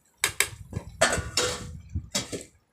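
A spoon knocks and scrapes repeatedly against a pan while instant noodle masala is stirred with chili powder, a few close, sharp clinks arriving in quick uneven bursts with brief quiet gaps between them.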